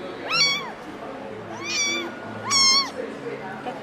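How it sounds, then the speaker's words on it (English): A rescued young cat meows three times in clear, rising-and-falling calls, close and loud, with brief pauses between them. "Is that why he's meowing at me?"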